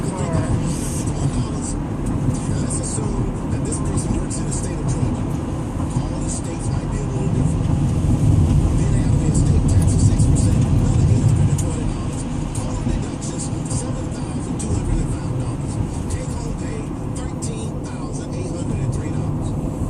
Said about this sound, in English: Look at all those cars.